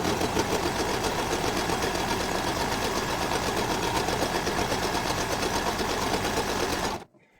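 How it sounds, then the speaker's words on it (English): A 4-thread overlock serger with a cutter trims and stitches apron fabric, a loud, close, steady high-speed mechanical whir that runs unbroken for about seven seconds before stopping abruptly. "This is my serger. It's like an overlock machine."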